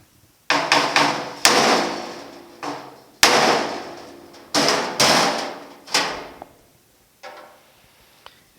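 A hammer pounds a dent out of the sheet-metal door of a 1950 Chevy truck: about eight loud, close blows at an uneven pace, each ringing out metallically before the next, with no talking.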